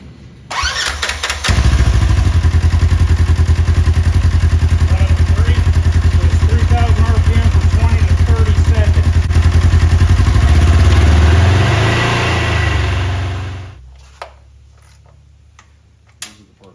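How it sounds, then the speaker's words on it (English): A 2024 Polaris RZR XP 4 engine starts with a few sputters, then revs loud and steady for about twelve seconds during a run-up before cutting off, followed by a few clicks. "Now it's the run-up. Engine run-up."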